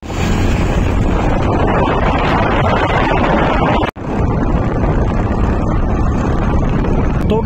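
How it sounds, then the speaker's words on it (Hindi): Motorbike riding through forest on the way from Srinagar to Keran Valley, a loud, continuous engine drone mixed with wind rush, broken by one sudden brief dropout midway. "हमारी बाइक भी आराम से जा रही है"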